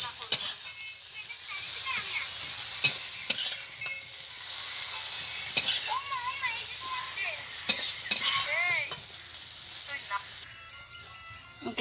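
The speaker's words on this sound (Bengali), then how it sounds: "কচুটা ভাজা হয়ে গেছে" Wild taro greens fry in a pan, a broad steady sizzle broken by scraping stirs and a few clinks of the utensil, with faint vocal chirps in the background.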